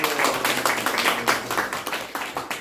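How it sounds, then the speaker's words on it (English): An audience at a talk on Krishna consciousness claps together in a quick, close, uneven patter that runs for a few seconds with no voices over it. "Oh, you are clapping."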